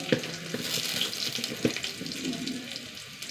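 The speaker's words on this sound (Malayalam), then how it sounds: "ഉള്ളി നന്നായി മൂത്ത് വരട്ടെ" Onions frying in a pan with dried red chillies and curry leaves, a steady close sizzle with a couple of sharp clinks of a spoon against the pan.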